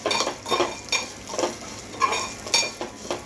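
Vermicelli roasting with almonds, cashews and raisins, stirred in a pan for kheer, close rhythmic scraping strokes of a spoon roughly every half second over a soft background sizzle.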